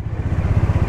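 A motorcycle engine chugs close by in a rapid low rhythmic throb as it arrives at a motorcycle clubhouse on New Year's Eve, brief and fairly loud, with no talk.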